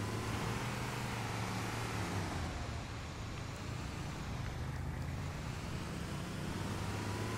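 Vehicle driving in Halo: Combat Evolved Anniversary gives a constant engine and road roar, with broad rushing noise that stays level throughout with no talk.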